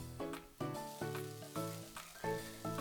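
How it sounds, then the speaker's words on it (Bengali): Cauliflower, carrots, beans and peas are stir-fried in a pan for a Bengali vegetable dish. A steady sizzle runs under repeated sharp spatula strikes on the pan, about twice per second. "সমস্ত কিছুকে আবারও ভালো করে কষিয়ে নেব"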